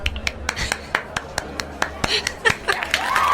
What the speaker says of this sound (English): clapping really hard is fun